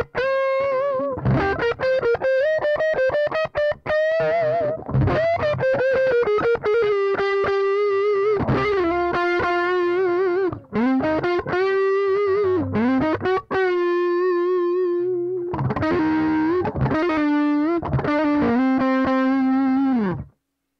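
An electric guitar runs through a loud overdrive pedal, sustained distorted chords and riffs ringing out thick and saturated with brief breaks between phrases, close and dense with no voice.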